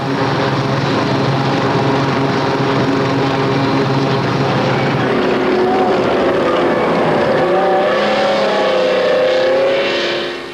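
A loud, steady engine drone with rotor-like throbbing, its pitch shifting midway as the craft seems to pass or maneuver, continuous throughout.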